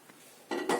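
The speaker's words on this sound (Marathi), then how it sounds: "कुकर ठेवूया" A pressure cooker is set down on a gas stove before jackfruit is steamed. It makes a quick, quiet metallic clank and clink, over in under a second.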